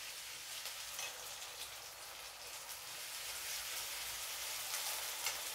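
Ginger garlic paste frying in a pan, giving a soft, continuous sizzle with light crackling that stays fairly quiet and even, with no voices.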